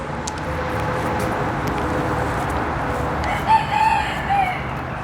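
A rooster crows faintly in the distance over steady outdoor background noise, with a few chickens clucking nearby.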